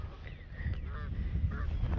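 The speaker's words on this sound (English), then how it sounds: "the geese are not happy with me" Geese honk in a short run of calls outdoors, close by and over a low rumble of wind or background noise, with no talking.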